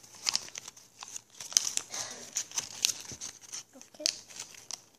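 Paper is creased and folded into an origami crane, giving off soft crinkles and sharp crackling snaps at irregular moments while a person speaks quietly.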